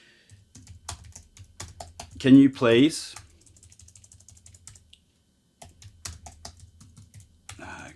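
Keystrokes on a computer keyboard tap out in scattered bursts, near and fairly quiet, with a person speaking briefly in the middle.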